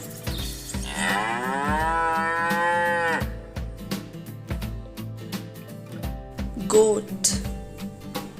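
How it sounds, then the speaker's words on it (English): A farm cow gives a long, loud, close moo that rises and holds for a couple of seconds, followed by a shorter second low, with a spoken voice between the calls. "Cow."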